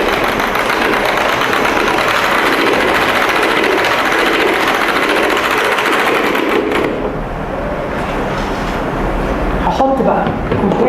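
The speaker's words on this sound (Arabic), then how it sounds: "طيب انا ممكن اضرب الاول الزبده لوحدها كده بس ضربه" An electric mixer beats softened butter on its own for a cookie dough, giving a loud, continuous motor whir that runs without a break for the whole stretch.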